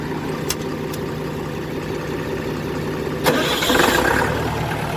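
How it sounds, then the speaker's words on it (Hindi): A truck's rear engine cranks and catches around the middle, settling into a steady idle over a constant background hum. "पीछे का इंजन चालू कर देता हूँ"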